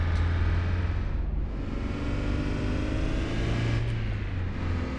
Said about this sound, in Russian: Тупо бросаю сцепу, и она в шлифы.